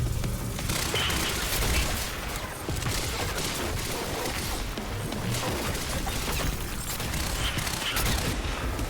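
Tactical SMG fired in bursts during Quantum Break combat: a dense, continuous wash of gunfire, impacts and crashing debris at moderate level with no clear gaps between shots.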